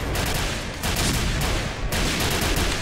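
Shotgun blasts in a first-person shooter game, loud overlapping bursts of gunfire in rapid succession, dense and close with no pause, no talking.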